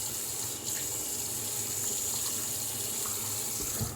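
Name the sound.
water running onto a dog's coat during grooming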